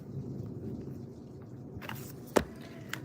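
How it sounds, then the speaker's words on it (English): Thunder rolls low and faint through a stormy backdrop, a soft continuous rumble with one brief sharp crack near the end; no voices. "there goes the thunder to confirm it"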